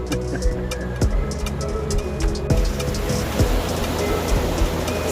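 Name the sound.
waterfall water rushing on Ingleton Waterfalls Trail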